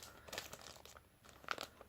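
Soft, brief crinkles of thin tissue paper being unwrapped from Quay Australia sunglasses, a few quiet rustling bursts close by with pauses between.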